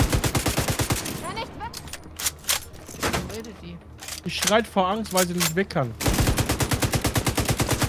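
Rapid bursts of automatic gunfire from the PC co-op shooter The Division 2 open and close the stretch, loud and dense, with German speech between the volleys.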